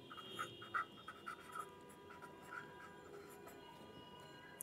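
A pen scratches across paper in short strokes, faint and close, the scribbling coming in small bursts over a steady low room hiss with no talking.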